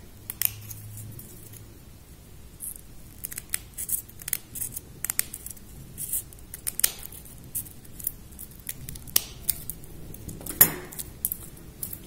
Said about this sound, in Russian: Берем ножницы и отрезаем.